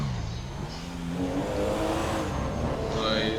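A fast car accelerates in GTA 5, its engine droning steadily and rising in pitch, close and continuous, with a faint tire squeal near the end.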